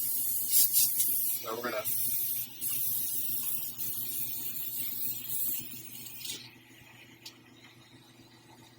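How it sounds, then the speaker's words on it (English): An airbrush spraying primer onto a 1/4-scale model prototype, hissing in steady bursts near the mic that fade out toward the end, with a person talking briefly. "Get on my airbrush first."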